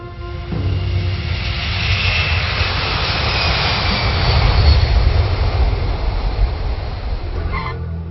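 A Blackbird military jet flies past, heard as a loud, steady roar of broadband engine noise that swells slightly in the middle and then eases off near the end, with no voices.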